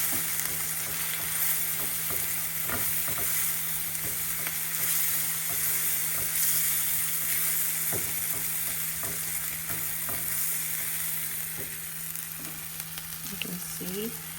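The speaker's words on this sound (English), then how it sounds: "So I'm going to add my tablespoon of gram flour because we need this to be roasted as well." Onion and gram flour roasting over a low flame in a pan for green peas paneer, giving a steady, close frying hiss with occasional scrapes and clicks of stirring throughout.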